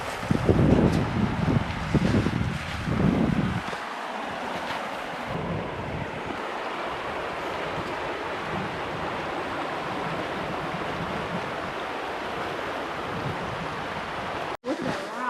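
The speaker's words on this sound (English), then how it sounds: "Because we hear really nice water." Water rushing steadily through a wooded ravine stream on a winter hike in Indiana's Turkey Run State Park, a broad continuous wash heard alone, with louder rustling handling noise at the start and a brief dropout near the end.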